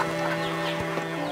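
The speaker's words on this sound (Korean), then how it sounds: "닭들의 아침 식사 시간입니다." Chickens cluck at morning feeding on a farm, several birds calling close and loud in quick overlapping bursts.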